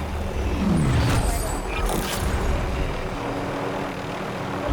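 A continuous engine drone of a helicopter passing overhead in Call of Duty: Modern Warfare, loud and steady, with a brief rising whine early on.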